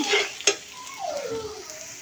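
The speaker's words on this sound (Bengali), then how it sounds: "যে হলুদ দিয়ে আর একটু ভাজা করে একটু পানি দিয়ে দিলাম" Turmeric being fried in a pan, a soft sizzle with a sharp utensil clink and stirring scrapes up close, no speech.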